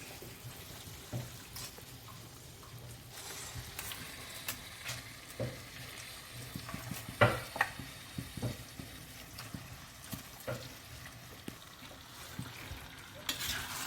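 Chopped chicken is stirred into fried masala in a pan, with quiet sizzling beneath repeated spoon scrapes and knocks against the pot, fairly faint and close, with no talking.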